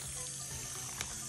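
Water pours onto fertilizer around a plant's root ball, wetting the soil in a soft, steady splash with a brief louder spatter near the end.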